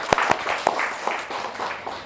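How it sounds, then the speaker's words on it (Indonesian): Audience applause at a talk-show style event in Bantul: a short burst of scattered clapping from a small group, a few sharp claps near the front, fading within two seconds. "Tepuk tangan dong"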